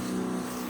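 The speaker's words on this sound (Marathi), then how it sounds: "आणि ही आता आपला दुसरा पंप चालला आहे" Motorized pesticide sprayer pump running in a vegetable field, a steady droning engine hum with a strong constant tone, close and continuous for the whole short moment.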